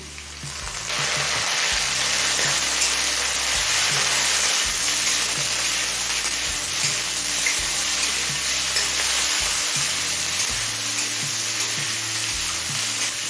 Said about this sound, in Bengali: এবার চিংড়িটা দিয়ে দিচ্ছি